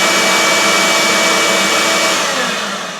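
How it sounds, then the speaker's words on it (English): A workshop vacuum powered through a switched plug roars loud and steady, then begins winding down as it is switched off at the end. "Vacuum goes on and off when I want to"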